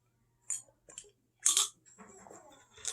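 Marble ramune candy, a Japanese convenience-store sweet, crunched between the teeth in a few close, separate bursts of sharp crackling, with softer chewing between them and no talk.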